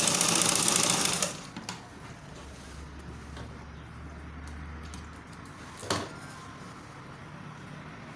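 A sewing machine stitches a gathering line on fabric for a gown, running in a loud, fast burst for about a second before stopping, followed by quiet handling noise and one soft thump.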